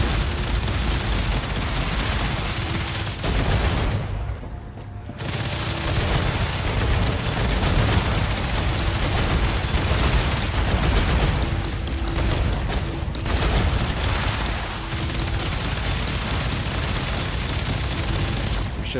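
Sustained gunfire and booming weapon blasts in a video game, a continuous loud barrage of rapid shots with mechanical clatter and a brief lull partway through.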